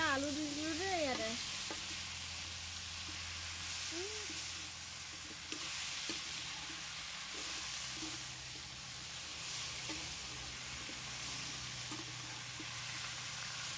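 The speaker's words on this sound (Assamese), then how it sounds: "এতিয়া আলু দি দিলোঁ দেই ইয়াতে" Potatoes fry with jackfruit flower in a hot pan, a steady soft sizzle running throughout with occasional stirring scrapes and knocks, while a person speaks briefly near the start.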